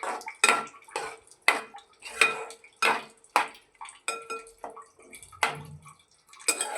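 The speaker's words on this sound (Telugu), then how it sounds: "వాటర్ యాడ్ చేసుకొని కలబెట్టుకోవాలి" A spoon scrapes and clanks against a pot as drumstick and tomato curry is stirred after water is added: steady, rhythmic strokes about every half second, close and fairly quiet, with no voices.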